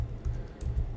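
A short burst of typing a filename on a computer keyboard, a few soft keystrokes close to the mic over a low background hum, with no talking.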